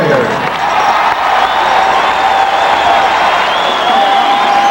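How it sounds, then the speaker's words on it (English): Excited basketball crowd at a 1985 Bradley Braves at Marquette Golden Eagles college game cheering to greet the Warriors, a loud sustained roar of whoops and applause filling the arena throughout. "An excited crowd to greet the Warriors"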